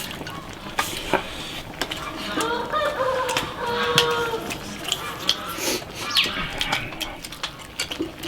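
A rooster on a farm crows once in the middle, fairly close, amid clucking fowl and scattered clatter and rustle in the background.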